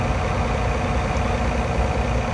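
A tractor engine runs steadily in Farming Simulator 19, a continuous low idling drone at an even level with no breaks and no talking.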